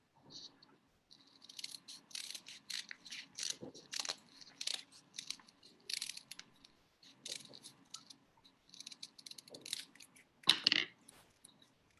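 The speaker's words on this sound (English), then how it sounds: "So we're going to cut around with our scissors, and we're going to cut out this shape." Scissors snipping around a paper heart shape at home, a run of quiet, irregular crisp cuts with short pauses between bursts and one louder snip near the end.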